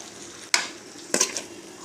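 Metal spoon stirring a pan of dried shrimp with chili powder, salt and a splash of water for a Malabar spinach curry: two short scraping strokes over a quiet, faint sizzle.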